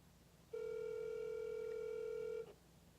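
A telephone line gives one steady electronic tone, loud and unbroken for about two seconds before cutting off, heard alone over a faint background hiss.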